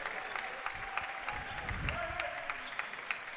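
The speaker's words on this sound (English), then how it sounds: "All the claim jumper fans applauding for the new 5." Basketball fans at a college men's game clap in scattered, uneven bursts at moderate distance, with a low murmur of voices under the applause.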